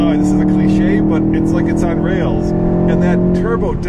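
Steady loud drone of a 2015 Volkswagen Golf GTI Mark VII turbo engine from inside the cabin while driving, a continuous hum with shifting tone, with people talking over it.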